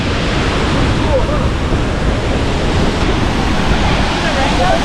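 A Yosemite waterfall roars near its misty base with a loud, unbroken wash of dense broadband rushing water filling the whole stretch, steady and close.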